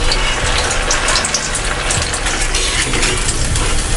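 Kofta balls for malai kofta deep-fry four or five at a time in well-heated oil over a medium flame, giving a loud, steady, dense sizzling hiss that runs unbroken throughout with no talking.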